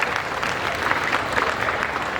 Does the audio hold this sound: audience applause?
yes